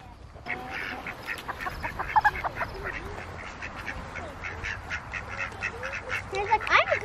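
A duck quacks repeatedly at a farm workshop, with bursts of honking calls scattered through the clip over soft background rustle and distant voices.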